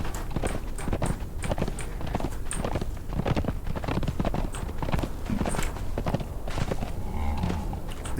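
Horse hooves clip-clop at a steady walking pace across rocky ground in the video game Conan Exiles, close and fairly loud, with a continuous wind-like background hiss throughout.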